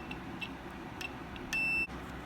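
A continuity tester beeps once, a short steady tone against a moped frame while its wiring is checked, heard over a low hum in a quiet workshop.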